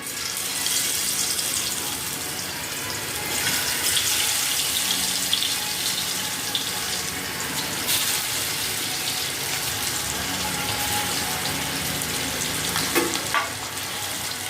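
Pieces fry in oil in a kadai with a continuous, even sizzle and hiss, steady and fairly close, with no voices.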